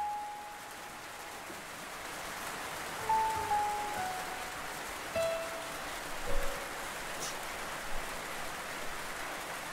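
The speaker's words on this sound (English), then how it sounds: "Raining. Where did this come from?" Steady rain falling on surfaces outdoors, a soft continuous patter with a few faint distant tones and thumps over it, fairly close and constant.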